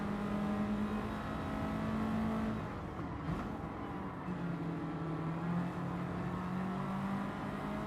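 A car laps the Goodwood circuit in Gran Turismo 7 during a Master Licence test, an older car with an engine note that holds steady and shifts pitch as it revs, with a continuous whir and no talking.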